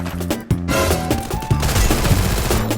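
Rapid, loud gunfire in the Free Fire battle royale game, with dense overlapping shots and bursts rattling continuously at close range, and no talk.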